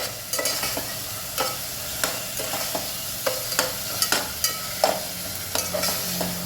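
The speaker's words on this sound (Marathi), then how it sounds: "बघ छान फ्राय होत आहे आपलं वाटण" Spiced vatan paste frying in oil for village-style chicken biryani, a soft continuous sizzle punctuated by regular spatula scrapes and stirring clinks, close-up with no voices.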